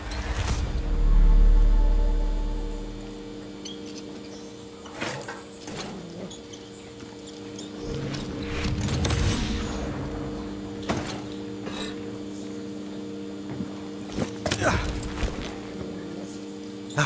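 Horse hooves clip-clopping in the video game Far Cry 6, intermittent steps over steady game ambience and background music, with someone speaking briefly.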